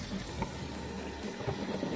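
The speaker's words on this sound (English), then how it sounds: "See all the water running through the tubing." Water recirculating through the livewell tubing of a DIY jon boat conversion: a faint, steady rushing and gurgling flow with a low pump hum beneath it, continuous and close.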